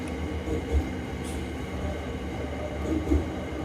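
Express train no. 25 pulling into Krung Thep Aphiwat Central station, heard as a steady low rumble with a few soft thumps of the wheels, no talk over it.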